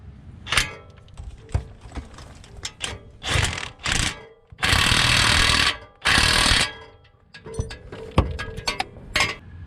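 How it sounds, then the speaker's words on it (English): Tightening exhaust clamp nuts on a Nissan Rogue muffler install, with bursts of a ratcheting tool and metallic clinks and clunks, interspersed with two longer sustained runs of a power tool whirring nearby. "Thread our nuts on, and then we'll set it and tighten it up."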